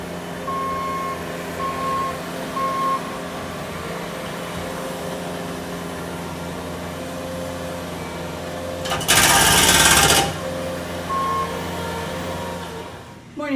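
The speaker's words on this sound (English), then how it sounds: "there's lots of construction noise outside again" Steady machinery drone with intermittent reversing beeps, then a loud burst of harsh broadband noise like a jackhammer or cutter for about a second, heard from outside.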